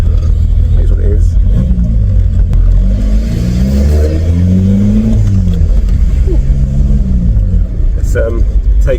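A 1990s VW Passat B3 fitted with a PD150 diesel engine pulls hard under acceleration, a loud, close, rising drone that swells and falls back, with a voice speaking over it from inside the cabin.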